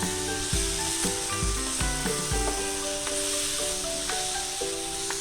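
Steady sizzling of onions and tomatoes with Kashmiri red chili frying in a pan, with scattered clinks and scraping of a utensil stirring against metal and no talking.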